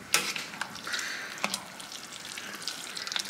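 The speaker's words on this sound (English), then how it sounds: "Okay, just gonna mix." Noodles and a sauce mix are stirred in a pan, giving a soft, close sizzle with wet scraping and occasional sharp clinks from the utensil against the pan, fairly quiet throughout.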